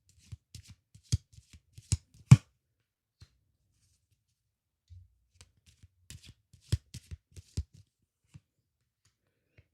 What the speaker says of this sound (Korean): 좀 제가 추가 카드 뽑아 보겠습니다